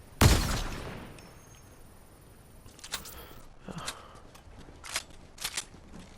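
Gunfire in the Fortnite video game: a loud close burst at the start, then a run of scattered, fainter distant shots crackling in short clusters.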